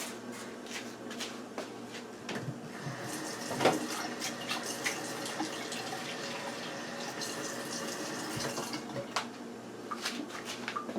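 A few tablespoons of water are poured into the bottom of a cooking pan, a soft continuous splashing trickle with occasional light clinks and knocks.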